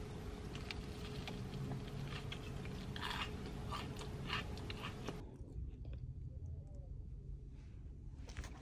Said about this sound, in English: Like, listen to the crunch.